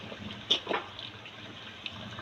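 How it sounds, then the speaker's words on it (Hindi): Water poured from a jug onto browned beef in a cooking pot for nihari, a brief splashing gush near the start that settles into a faint trickle. "इसमें हम डालते हैं पानी"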